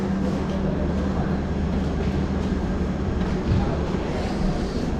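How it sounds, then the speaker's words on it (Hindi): The Guwahati–Sairang Express stands at Sairang station, giving off a loud, steady rumble of idling engine and carriages with faint background activity around the platform. "ये रहा गुवाहाटी सारंग एक्सप्रेस।"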